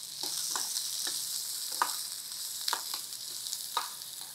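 Chopped onion frying in oil in a pan for stuffed brinjal masala curry, stirred periodically: a continuous close sizzle broken by several short spatula scrapes about every second, no voices.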